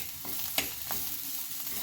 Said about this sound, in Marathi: अद्रक 1 मिनिट आपण याला छान परतून घेऊया.